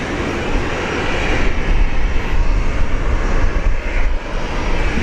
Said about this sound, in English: One taxiing on out. Heading out. King Air.